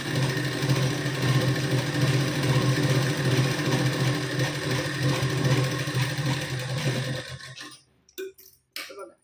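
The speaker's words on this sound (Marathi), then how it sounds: "बघा, शिलाई देऊन घेतली." A sewing machine runs a double seam joining a blouse sleeve, a steady close whirring hum for about seven seconds, then stops, leaving a few faint handling clicks.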